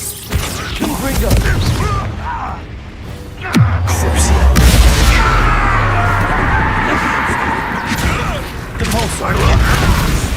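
A Confringo blasting spell in Hogwarts Legacy detonates with a sudden loud boom partway through, followed by a deep rumbling roar and sustained crackling debris over a busy game soundscape.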